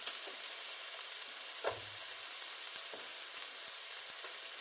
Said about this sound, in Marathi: फाईनली चॉप अनियन घातलं आणि छान गोल्डन ब्राऊन होईपर्यंत फ्राय करायचं